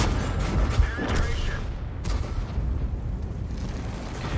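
Tank cannon and gunfire in the World of Tanks video game boom and crackle in bursts over a rumbling battle din, with a voice talking.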